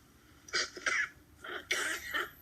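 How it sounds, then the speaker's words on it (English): A man in a TV drama coughs in several short harsh bursts, clearing his throat between them, close and fairly loud with no talk over it. "He just probably coughed up blood."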